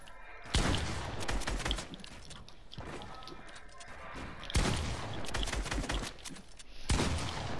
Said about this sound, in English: Now also both freaking spamming the tactical shotguns